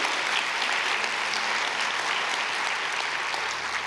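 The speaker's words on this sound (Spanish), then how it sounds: "Y le da un aplauso, por favor, a Jesús." Congregation at a church service clapping and praising, an even roar of many hands that holds steady throughout and stays loud, with a sharp knock right at the end.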